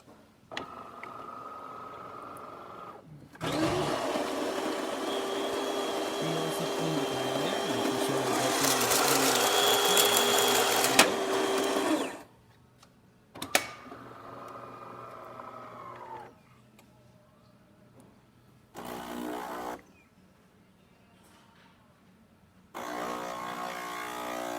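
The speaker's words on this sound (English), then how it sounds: "Starting with one shot of espresso." A DeLonghi espresso machine, just tuned up after a crema fault, buzzes loudly as its pump pulls a single shot, a steady drone of several seconds, followed by shorter bursts of machine noise with quiet pauses between.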